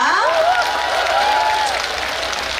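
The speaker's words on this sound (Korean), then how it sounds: "우리 시장님 위해서 박수 한번 부탁드리도록 하겠습니다" Crowd at the Naju Yeongsan River festival applauding for the mayor, a dense steady patter of clapping throughout with a brief sung or shouted voice rising over it near the start.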